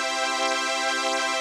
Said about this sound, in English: Or run the drive signal through Finisher's model of that circuit.